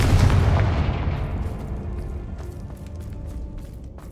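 A Confringo fire blast spell explodes in Hogwarts Legacy, with a loud booming burst at the start followed by a rumbling tail that slowly decays over a few seconds.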